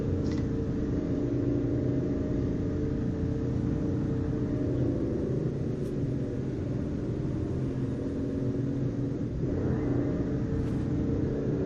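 A car driving down the road in Final Fantasy XV, a steady low engine rumble holding constant throughout, with no one talking.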